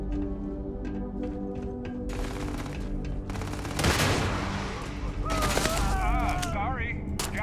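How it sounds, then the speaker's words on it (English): Gunfire from a toy-like gun in the Starfield video game comes as a rapid burst of loud, sharp shots over background game music, followed by a booming impact and mechanical whirring. "This gun sounds and feels like a toy."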